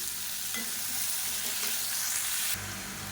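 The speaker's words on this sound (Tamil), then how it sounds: "இப்போ நல்லா எண்ணெயில் ஃபஸ்ட்டு பொரியட்டும்." Steady loud sizzling of onion and tomato frying in hot oil for chutney, a continuous crackling hiss with faint stirring underneath.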